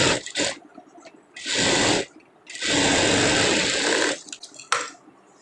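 A sewing machine stitches blouse lining in a few short runs, each a close, loud buzzing whir, separated by brief pauses and small clicks of fabric handling.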